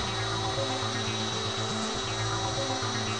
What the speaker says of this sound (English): I'm starting the drill, watching the graft as it goes in.